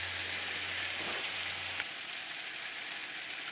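Chopped tomatoes fry in a pan for paneer biryani, giving a constant soft sizzle and crackle like light rain, with a low hum that stops partway through.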